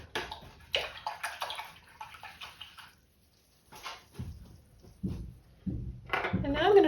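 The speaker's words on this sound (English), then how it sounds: "I'm going to rinse my brush out." Paintbrush rinsed in a water container during acrylic painting, with close sloshing, swishing and light tapping in short repeated bursts.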